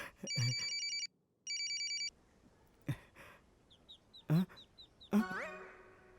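A warbling electronic phone ring in a Hindi-dubbed action film sounds twice in quick bursts, followed by assorted chirpy electronic beeps and clicks.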